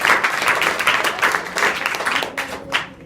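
A roomful of school students claps together, a brisk, loud burst of overlapping hand claps that gradually thins out and fades toward the end.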